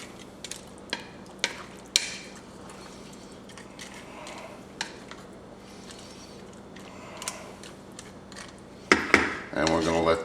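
Spaghetti being pressed down into a one-pot meat sauce, with scattered clicks and scrapes of a utensil against the pot over a low simmering background, a louder clatter near the end.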